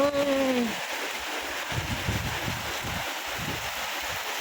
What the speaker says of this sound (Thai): ฝนตกสวยมาก